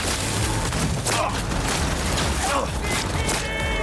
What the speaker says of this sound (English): Got the Bloody Maria. It's quite the shotgun.